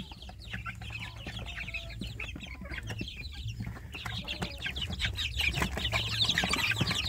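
Newly hatched free-range village chicks in a brooder box peep and chirp constantly, a dense cluster of high cheeps nearby that grows louder toward the end.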